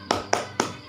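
Three sharp, evenly spaced claps of the Indonesian scout tepuk salut clap pattern, close and loud, each ringing briefly before the next.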